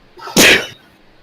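A single sharp, loud sneeze bursts out close up, preceded by a brief soft intake and followed by quiet.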